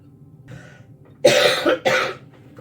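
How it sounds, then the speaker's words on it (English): Two sharp, close coughs ring out in quick succession after a moment of quiet background hum. "I may cough a little bit, and I'm sorry."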